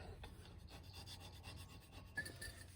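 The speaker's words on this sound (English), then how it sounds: "You can also do like what I'm going to show and use Scotch-Brite pad." Abrasive pad scrubbing a front wheel hub on a 2005 Ford Explorer XLT with 109,000 miles, a steady close rasping rub with repeated strokes, heard alone.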